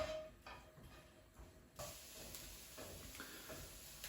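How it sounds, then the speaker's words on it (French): Chopped onions sizzle and sweat in a frying pan, a steady low hiss with faint stirring scrapes that grows fuller partway through. "On va donc les faire suer jusqu'à ce qu'ils soient un petit peu translucides."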